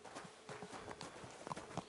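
Horse hooves clip-clopping at a steady trot in Kingdom Come: Deliverance II, a quick, fairly close rhythmic patter over a faint ambient bed.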